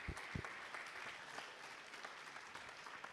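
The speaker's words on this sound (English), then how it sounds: "give them a big applause." Audience applause at a hardware and arts hackathon final demo in Tartu, following a team's presentation; steady, fairly distant clapping from a modest crowd, quiet and even, with a couple of louder thumps near the start.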